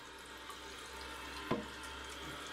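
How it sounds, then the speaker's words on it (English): A toilet tank refills with water after a flush, a faint, steady hiss of running water with one brief splash partway through. "1 gallon of water went out of the tank, and it fills back up again"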